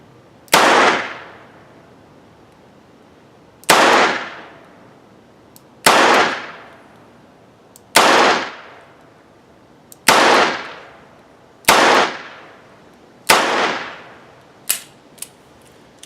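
.38 revolver fired at an outdoor shooting range: seven loud, sharp reports spaced a couple of seconds apart, each ringing out and decaying. A few small metallic clicks sound near the end.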